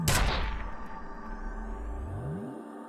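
Gunfire from a weapon in the video game F.E.A.R.: a sharp, loud shot opens, then a rumbling echo and low mechanical rumble fade away over the next few seconds, with no voices.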